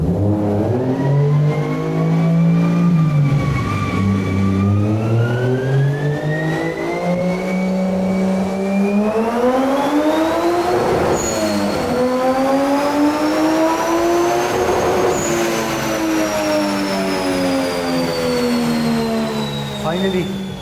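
A car engine on a dyno inside a closed room revs loud and close, its pitch climbing, dipping and climbing again in long sweeps that fill the space without a break.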